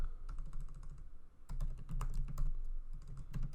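Keys clatter on a computer keyboard while a comment is typed, in short irregular bursts of clicks with a brief pause partway. The sound is close and moderately quiet, and no one speaks.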